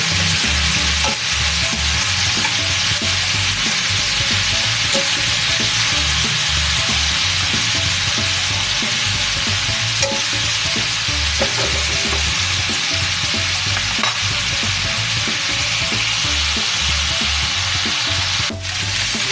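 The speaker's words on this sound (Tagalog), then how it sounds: "Hayaan po natin ma-fried yung ating chicken." Chicken pieces fry in a pan, a steady loud sizzle and crackle running unbroken, with no talk over it.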